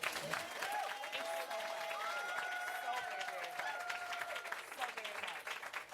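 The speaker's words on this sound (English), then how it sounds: "Let's give them a round of applause." An audience applauds and cheers for a couple at a talk about dating and marriage, with steady clapping throughout and voices and whoops rising over it.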